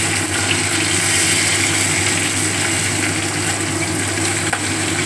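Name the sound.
fish frying in a pan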